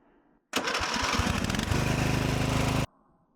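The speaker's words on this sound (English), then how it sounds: "my starter has been giving me issues where it's not wanting to catch" A 1997 Murray riding mower's faulty starter cranks loudly for about two seconds without catching, a close, continuous grinding churn that stops abruptly, leaving quiet background.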